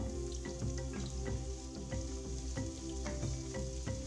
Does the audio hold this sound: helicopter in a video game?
no